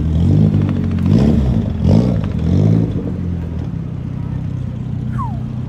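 A loud car engine at the Daikoku car meet revs hard in several rising and falling surges, then settles into a rough, steady rumble close by.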